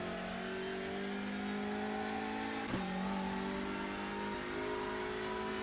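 Hyundai Elantra TCR race car in the iRacing sim on the Barber track, its engine droning steadily at mid revs in second gear, with a brief blip and the pitch settling slightly as it shifts, close and continuous.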